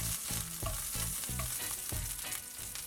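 Ginger and shrimp fry in a hot pan, giving a dense, steady sizzle with bursts of crackling and occasional clinks of stirring, close and loud throughout, with no talking.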